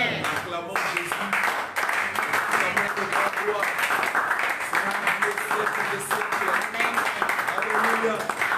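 A church congregation at a Sunday worship service applauds in sustained, dense clapping, with voices and talk mixed into the steady crowd noise.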